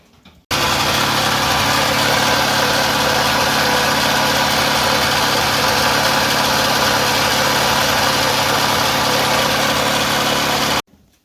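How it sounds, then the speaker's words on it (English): A Ski-Doo Everest snowmobile engine with a weak cylinder idles steadily and loudly for several seconds with an uneven, slightly lumpy rumble, then cuts off abruptly. "It sounded like one cylinder wasn't really doing much."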